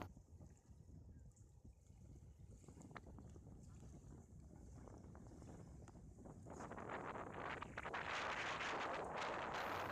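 Strong wind buffets the open sea beach at Bakkhali, a low rushing roar that swells and grows louder toward the end, with gusts hitting the microphone.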